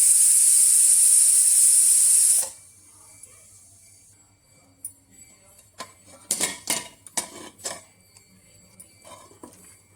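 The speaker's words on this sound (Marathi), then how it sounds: "कुकरच्या चार ते पाच शिट्ट्या झालेल्या आहेत आता आपण झाकण खोलून घेऊ" A pressure cooker that has just finished cooking mutton lets out a loud, steady hiss of steam that cuts off abruptly, followed by scattered metallic clinks and clatter as the lid is handled.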